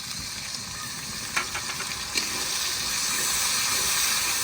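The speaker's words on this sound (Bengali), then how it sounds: "হালকা আছে জাল দিয়ে সুন্দর করে মশলাটা কষিয়ে নিয়েছি" Ground cumin-coriander paste with dried chilli and pepper frying in a pan for a village chicken curry, a steady bubbling hiss that swells louder toward the end, with a couple of sharp spatula scrapes and no voices.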